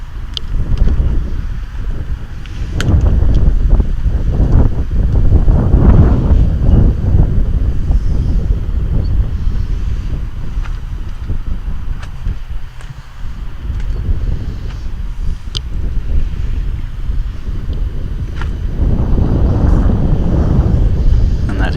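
Strong wind roars and buffets continuously across an outdoor lawn bowls green during an under-25 men's final, a loud, rumbling rush that swells and eases for the whole stretch with no clear voices.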